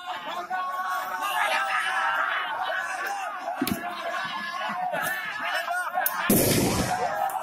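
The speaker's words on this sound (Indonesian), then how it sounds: "diadakan suatu tembakan peringatan untuk menghalau" Sharp warning gunshots crack out over a noisy, chattering crowd during a prison riot-control drill, one loud blast standing out near the end.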